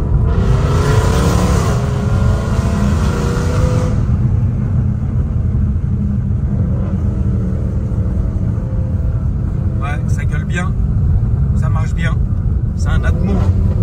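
A loud naturally aspirated car engine with its exhaust valves open rumbles and drones throughout with a deep, throaty exhaust note, while people talk over it.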